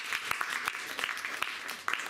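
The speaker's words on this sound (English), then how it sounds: "please clap." A live show audience claps as a vote, producing a short, loose burst of moderate applause with separate claps standing out, heard alone without talking.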